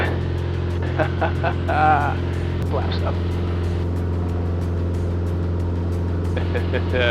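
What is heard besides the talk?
Mooney light aircraft engine at full power climbing after takeoff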